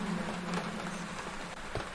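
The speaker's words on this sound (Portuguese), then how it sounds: "Tá chovendo sangue, mano." Steady rainfall in the horror game Martha Is Dead, where blood rains down: a continuous soft patter with scattered drops over a low hum, no voices.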